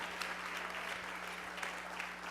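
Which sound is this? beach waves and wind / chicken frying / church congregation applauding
church congregation applauding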